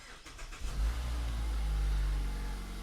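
A Mazda CX-5 starting up with a low key fob battery: a short cranking clatter, then the engine catches with a low rumble that settles into a steady idle close by.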